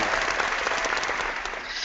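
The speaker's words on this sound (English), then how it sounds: "Round of applause for them." Applause for two hosts on a RuneScape community show, a steady, even wash of many hands clapping throughout, close and fairly loud, with no talk over it.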